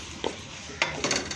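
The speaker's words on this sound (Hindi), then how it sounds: "अब इसको मैं थोड़ा सा भूनूँगी" Chicken stirred in a pot while browning for a vegetable pulao gives a few quiet, brief metallic scrapes of a spoon against the pot.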